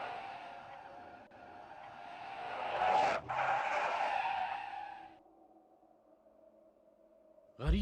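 A car with a burst tire skids in a long, wavering squeal for about five seconds, then drops to a faint, steady hum.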